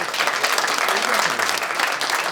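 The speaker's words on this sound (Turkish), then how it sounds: "Ozan'a büyük bir alkış alabilir miyiz?" A studio audience at a Turkish comedy talk show applauds loudly and continuously, a dense close wash of clapping filling the whole stretch without pause.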